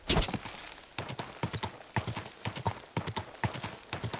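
Horse hooves clip-clop at a steady riding rhythm in the medieval role-playing game Kingdom Come: Deliverance II, a clear repeating pattern of hard, close footfalls heard alone throughout.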